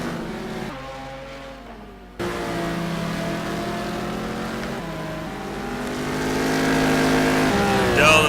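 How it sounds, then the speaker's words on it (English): A Mercedes-Benz race car in a sim racing game roars down the main straight at Phakisa, its engine note climbing steadily through the gears, loud and continuous after a brief dip near the start. "The 52 Mercedes-Benz powers his way down the main straight."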